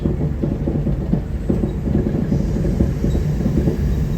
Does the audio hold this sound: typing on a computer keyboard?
no